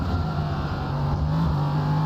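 An LMP3 race car engine in iRacing at Road Atlanta runs at full throttle, a steady, moderately loud buzzing tone that holds without a break.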